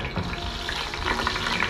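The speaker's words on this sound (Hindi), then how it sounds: "पानी था लगता है इसके अंदर, तभी इसकी इतनी आवाज़ आ रही है।" Hot oil sizzles and crackles steadily in a pan that still holds a little leftover water, with garam masala just added, a continuous dense hiss with no speech.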